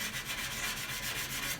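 Steady abrasive rubbing of sandpaper across a Toyota Supra's body panels ahead of primer, a continuous close scratchy hiss with faint rhythmic strokes and no talking.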